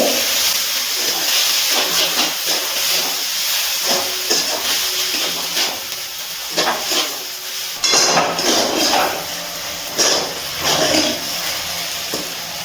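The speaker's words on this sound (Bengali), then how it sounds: "খুব ভালো করে সাবুদানাটা ভেজে নিয়েছি।" Soaked sago pearls frying in ghee in a kadai give a steady loud sizzle and hiss, broken by clinks and scrapes of a stirring utensil against the pan.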